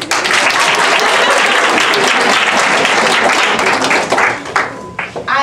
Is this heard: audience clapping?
yes